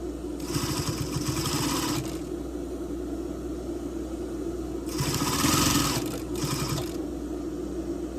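A sewing machine stitching bra cups to elastic runs in two short bursts of rapid, even stitching, loud and close, separated by a low steady hum with no talking.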